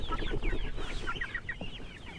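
Village chickens (ayam kampung) cluck and chatter inside a coop, several birds overlapping in quick, busy calls at close range with a low background rumble, and no talking.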